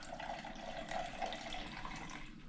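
Vinegar trickles out of a jar of pickled onions, a soft, continuous splashing pour heard close and fairly quiet, with no voices.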